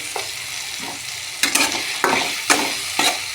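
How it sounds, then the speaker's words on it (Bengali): Cut potatoes are stirred into spice paste frying in a pan for a vegetarian drumstick-leaf and potato dish. Sharp stirring scrapes repeat over a constant sizzle, close and loud. "মশলাটা কষানোর পর কেটে রাখা আলুগুলো দিয়ে দেব"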